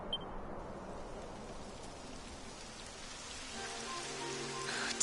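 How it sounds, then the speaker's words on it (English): Rain falling in the video game Dragon Quest XI, a soft, even hiss of steady rainfall with no voices, holding constant and thickening slightly toward the end. "It would have to go and start raining, wouldn't it?"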